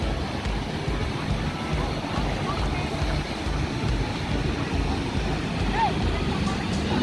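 A large motorboat's motor rumbles steadily over the sea off Guarujá, Brazil, with wind buffeting the microphone and wash from waves throughout; people talk faintly in the background.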